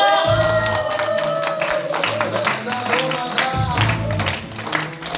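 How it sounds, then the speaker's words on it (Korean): Audience applause and cheering welcome a lecturer onto the stage at a seminar on ultrasound devices, a dense steady wash of clapping with scattered shouts, while music and a voice carry on over it. "큰 박수로 소개 부탁드리겠습니다"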